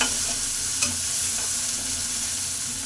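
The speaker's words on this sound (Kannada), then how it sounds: "ಒಂದು ಟೊಮೆಟೊ ಹಾಕ್ಕೊತೀನಿ ಇದಕ್ಕೆ. ಟೊಮೆಟೊ ಹಾಕಿ ಫ್ರೈನ ಮಾಡ್ಕೊತೀನಿ." Tomato frying with browned onion and garlic, a steady close sizzle with a brief stirring scrape near the start, no voices.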